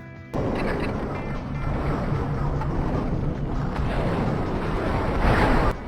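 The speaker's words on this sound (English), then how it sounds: "Now the sounds within the game are all slowed down." Slowed-down Star Wars: Battlefront game sound effects: dense, rumbling mechanical sounds play continuously for several seconds, smeared and low-pitched with a muffled, underwater-like quality.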